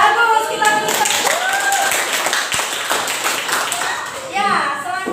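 A classroom of pupils at a madrasah tsanawiyah claps together on cue, a dense patter of hands lasting several seconds, with children's voices calling out over it and rising again near the end.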